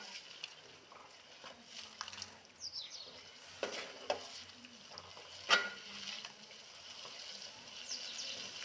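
Steady sizzling of tempering for toor dal in a hot pan, with a few sharp crackles and pops, close by and moderately loud, no voices.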